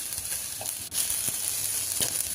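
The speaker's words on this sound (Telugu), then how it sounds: "ముందుగా ఆనియన్స్ బాగా సన్నగా తరిగి అలా వేపుకోవాలి" Thinly sliced onions fry in a pan with a loud, close, continuous sizzle. A few soft knocks of stirring sound through it, and no one speaks.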